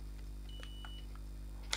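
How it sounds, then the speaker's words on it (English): A multimeter on continuity mode beeps while testing a cylindrical fuse: a short, faint electronic beep near the end over a steady low hum, with a few soft ticks before it. "you can see it beeps and also gives me a resistance reading of 1 ohm"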